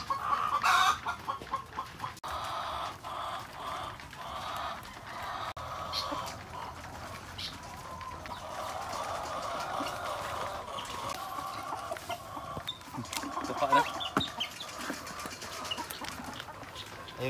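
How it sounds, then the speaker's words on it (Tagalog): Native chickens on a rural goat farm in the provinces cluck continuously while pecking at alternative feed, soft overlapping calls under steady outdoor ambience, with a brief louder call near the start. "pumunta na yung mga alaga o manok dito. Kinuka na nila."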